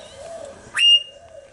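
A parrot in an outdoor aviary gives one loud, sharp whistled call, close and alone against a quiet background.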